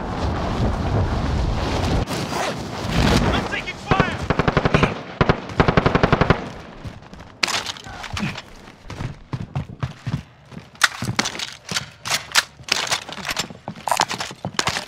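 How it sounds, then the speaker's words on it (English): Automatic rifle fire in Call of Duty Warzone gameplay, with loud sustained bursts of rapid shots followed by sparser, irregular volleys and single cracks over a windy, rumbling game backdrop. "I'm taking fire."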